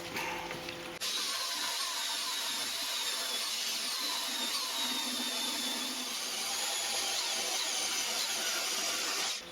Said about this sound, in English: It's not the fastest bandsaw in the world, but it sure beats a hacksaw.